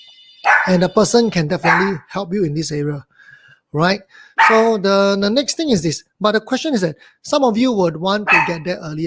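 A pet dog barking indoors during a talk on financial planning, with several short, loud yips and barks breaking in between and over a man's steady speech.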